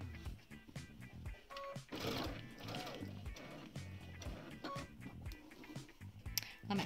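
Sewing machine stitching a machine appliqué, running in close whirring bursts with short pauses and rattling, under some quiet handling noise.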